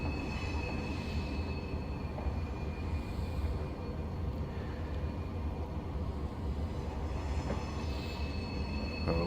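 Class 370 APT-P tilting train rolling down a ramp on the London to Birmingham line in Train Simulator Classic, a steady low rumble of wheels on rail with faint squeals, continuous and close throughout.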